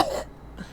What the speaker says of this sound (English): He's still got death cough.